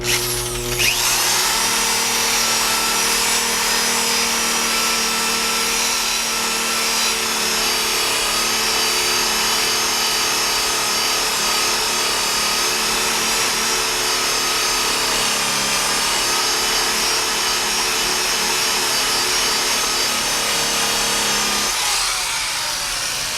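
A powered buffing pad whirs steadily across a metal surface polished with Flitz, a loud, continuous motor drone with a faint tonal whine that holds for over twenty seconds before winding down at the end.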